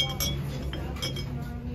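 Mass-produced glass vases clink together in a thrift store, with light, ringing taps over a steady background hum of the shop.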